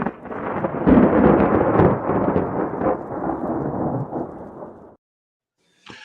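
Thunderstorm and rain sound effect: a loud, rumbling roll of thunder over rain noise that swells and then slowly fades before cutting off abruptly.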